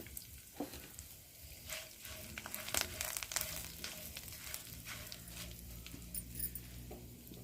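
Tempering spices and turmeric crackle and sizzle in hot oil, a steady frying hiss with scattered sharp pops and spatters throughout.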